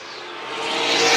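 A vintage race car sweeps across the line at Dillon, a brief broadband engine rush that grows louder as it approaches.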